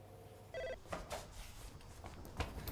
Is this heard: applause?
no